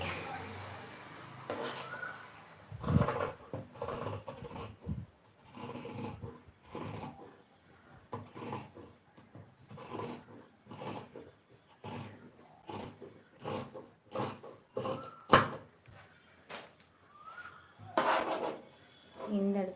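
Scissors cut through cloth for a blouse sleeve in a run of irregular close snips and rasping strokes, separated by short pauses.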